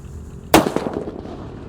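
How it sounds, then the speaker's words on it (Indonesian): A Disco Thor firecracker wrapped in paper detonates once with a sharp, loud bang, followed by a brief crackling decay and no talk. "Suaranya menggelegar, tapi kertasnya nggak kepiar guys."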